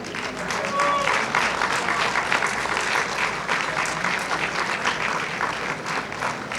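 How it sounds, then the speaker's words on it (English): A large audience gives a loud, sustained round of applause for an event's organising committee, with dense, even clapping that holds throughout and a faint murmur of voices underneath. "So, let's give a round of applause to our committee."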